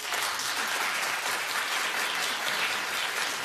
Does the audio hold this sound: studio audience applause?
yes